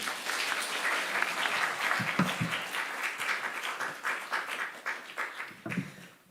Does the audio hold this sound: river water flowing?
no